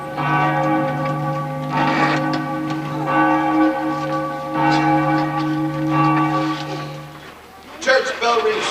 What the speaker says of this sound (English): Church bell rings 6 on the mid-April morn in the year of our Lord, 1782.